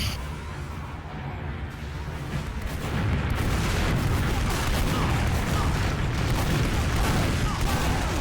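Pre-game deathmatch gunfire in a competitive shooter video game, with a dense, continuous clatter of shots and booms that grows louder after a few seconds and holds steady.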